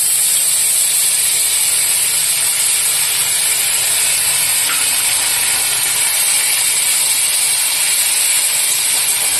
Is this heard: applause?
no